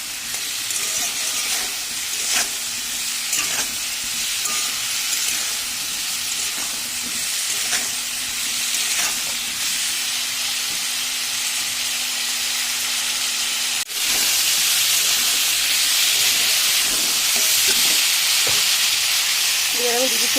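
Green chili, salt and turmeric frying in a pan for a fish curry with cauliflower and potato, a steady loud sizzle and hiss throughout, with stirring scrapes and a sudden louder burst of sizzling partway through.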